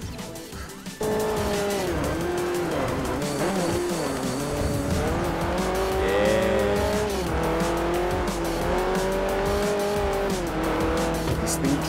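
Race car engine revving continuously with tire squeal while drifting through a corner in Forza Motorsport 4, loud and steady, engine pitch rising and falling through gear changes, no talking.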